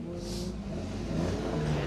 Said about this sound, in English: The second of the MX-5s arrives with us here